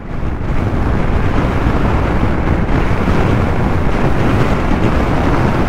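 Steady, loud wind roar buffets the microphone while riding a Shineray SHE-S electric motorcycle into a headwind at about 72 km/h in open ground near an airport, a constant broadband rush with no pause.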